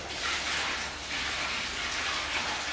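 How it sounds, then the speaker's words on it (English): Water from a bucket pours steadily into a plastic tray used for soaking wallpaper, a continuous close gushing splash lasting the whole moment with no voices. "and I fill the tray up with water"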